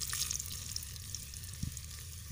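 Onion sizzling steadily in hot oil in a pan, a continuous close frying hiss with a few brief louder crackles, no talk.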